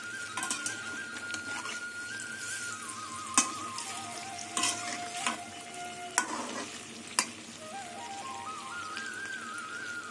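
Palm fritters made with rasgulla (taler bora) frying in hot oil, a steady sizzle with several sharp knocks of a utensil as they are stirred and flipped, under faint tonal background sounds.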